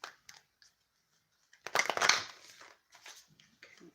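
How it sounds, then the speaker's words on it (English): Tarot cards being shuffled: a brief quiet pause, then a loud riffling burst of card-on-card crackle and flutter, followed by softer handling sounds and light clicks. "Do one more shuffle."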